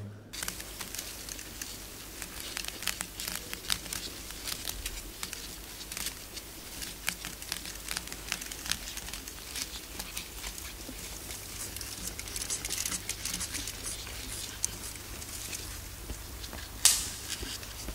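Paper is crumpled close by, a soft, continuous crackling with scattered sharper crinkles, a little louder toward the end.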